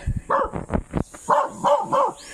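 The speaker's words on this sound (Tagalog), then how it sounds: "Ayun, may aso kasi." A dog barks several times in quick bursts, close by, with short yips between the louder woofs.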